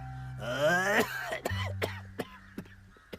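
An older person coughs in a harsh, phlegmy fit: one long throaty bout, then several shorter, fainter coughs spaced out, close and alone.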